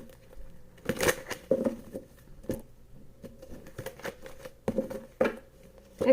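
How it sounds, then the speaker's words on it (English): A deck of cards is shuffled by hand in a quiet room, a series of soft, quick riffling bursts and shuffles in irregular clusters, close and fairly faint. "One more shuffle, please."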